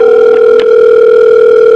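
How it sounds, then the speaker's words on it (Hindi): A steady telephone dial tone hums loud and alone for nearly two seconds after the call on the line is cut off, then breaks off abruptly. "बादशाह सलामत का फोन काट दिया।"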